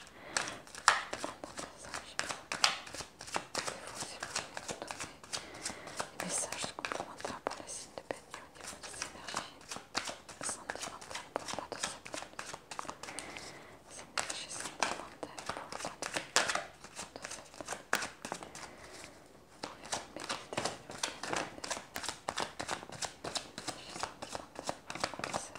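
A deck of tarot cards shuffled repeatedly during a horoscope card reading: steady, soft, riffling flutters and taps continuing throughout, close and quiet, with speech audible at times.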